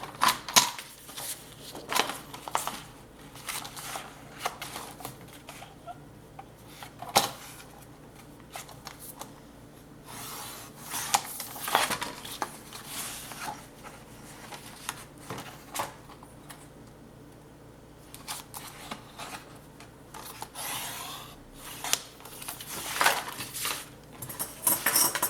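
Paper lining of a scrapbook album page being cut, heard as a string of crisp, close snips and rustles in bursts with pauses, fairly quiet and without talk.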